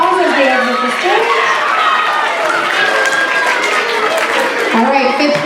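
A crowd of schoolchildren at a school assembly claps and shouts loudly as the performers leave the stage, with many overlapping young voices and steady, dense applause.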